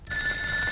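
A telephone bell rings steadily with a bright, sustained electronic tone, loud and alone, in a comedy scene set at home.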